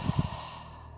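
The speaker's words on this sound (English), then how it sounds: "Take big breaths in," Deep breathing during a strength and flexibility yoga flow, with a couple of short, close breath pulses at the start fading into a quiet steady background hum.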